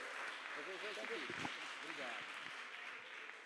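Broadband clapping from a congregation at a church worship service, steady and fairly even, with singing or voices faintly underneath.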